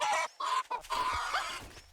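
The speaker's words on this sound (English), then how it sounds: "Chicken is distressed." A distressed chicken in the 7 Days to Die video game squawks and clucks loudly and close by, in a rapid run of agitated calls with brief gaps, with no talking.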